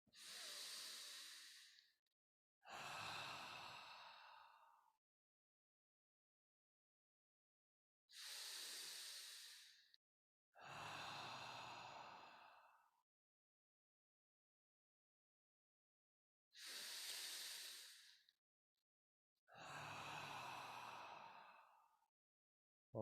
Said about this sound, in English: I'm making my breath pretty loud so you can hear it.